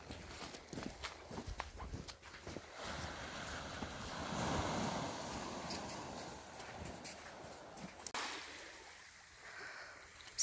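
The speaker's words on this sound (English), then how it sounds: "So this is pretty much the sea." Sea waves wash onto the rocky Argyll coast near Dun Skeig, a steady broadband surf roar mixed with gusty wind noise on the microphone, swelling in the middle and easing toward the end, with no talk.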